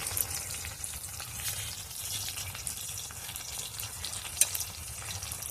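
Flat beans fry in a pan with salt, turmeric and Kashmiri red chilli powder, making a continuous close sizzle with faint stirring scrapes and a soft clink near the end.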